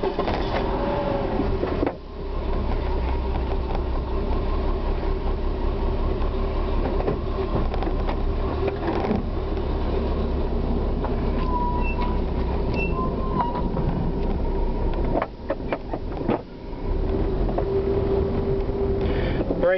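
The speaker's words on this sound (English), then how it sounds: "I'm just gonna do a couple laps and see if anything happens" A car with stalling trouble being driven after its lines were reconnected, a steady close engine and road rumble inside the cabin with a few bumps and rattles, and a voice talking briefly over it.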